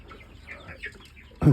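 Young chicks peeping and softly clucking, faint and close, in a quiet brooder, followed by a sudden loud knock right at the end.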